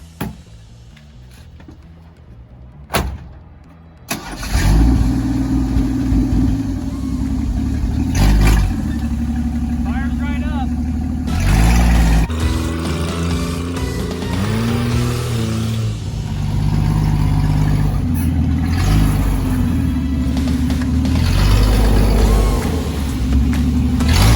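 A 1981 AMC Eagle Sundancer drives along a muddy-free dirt road, its engine rumbling loud and steady with rising revs and occasional surges, after a few quiet seconds at the start; no talk over it.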